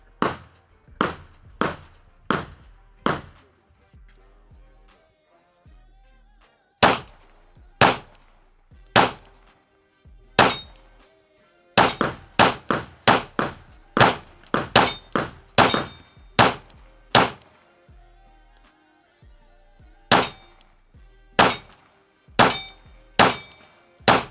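A Rock Island M1911 A2 Tactical pistol fires in loud, sharp bursts, a quick string of about five shots, a pause, then rapid clusters of many more shots with short gaps, each crack ringing briefly.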